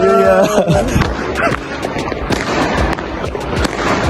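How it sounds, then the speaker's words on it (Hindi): Sharp firework bangs and crackling bursts go off repeatedly, loud and close, at a New Year's celebration, with voices shouting and chattering throughout. "आतिशबाजी का सिलसिला शुरू हो चुका है।"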